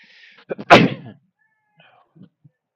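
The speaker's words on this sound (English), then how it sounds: "I just had a massive sneeze." A single sharp, loud sneeze bursts out, preceded by a brief breathy intake, followed by quiet with a few faint small noises, during a high school baseball game broadcast.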